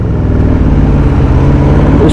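Dense traffic surrounds a 2022 Aprilia RSV4 1100 Factory motorcycle, a steady, loud wash of engine rumble and road noise with no break.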